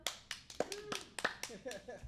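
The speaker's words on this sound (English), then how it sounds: "Clap if we have any online daters in the crowd" A small comedy club audience claps in sparse, uneven bursts, a few distinct hand claps scattered over a couple of seconds while people talk.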